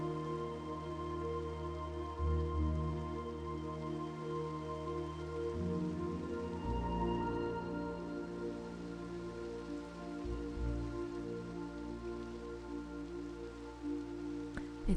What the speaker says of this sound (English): Let's get a little lower so we can hear the rain again.